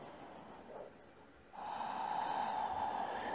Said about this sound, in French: On a une longue respiration.